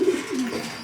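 Racing pigeons in a loft give a soft, low cooing call, with two brief near coos over quiet loft background.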